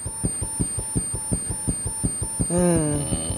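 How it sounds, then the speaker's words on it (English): A thin, piercing high-pitched tone from a mosquito anti-loitering device holds steadily throughout over a rhythmic series of low thumps, and a voice briefly speaks near the end. "it emits a high-pitched sound audible only to those under the age of 25"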